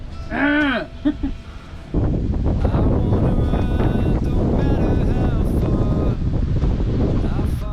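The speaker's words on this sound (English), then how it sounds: "today the wind has picked up and it is ruining us" Strong wind buffets the microphone on a beach, a loud continuous roar and rumble that holds steady after a short stretch of talk at the start, with voices coming and going over it.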